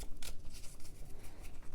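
Tarot oracle cards are shuffled in a steady, rapid run of soft riffling and sliding, close and continuous, with no talking.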